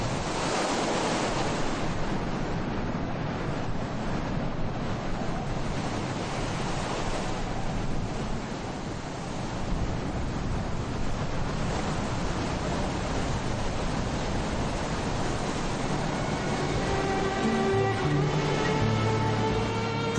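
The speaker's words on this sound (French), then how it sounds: "le vent se met à souffler fort." Strong wind roars over the Essaouira coast with surf breaking behind it, a dense continuous rush of air and waves, loud and close, with no voices.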